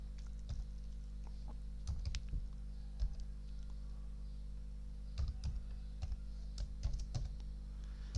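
Keys clatter on a computer keyboard while text is entered into an Excel cell, quick irregular clicks in short bursts, close and moderately quiet over a steady low hum.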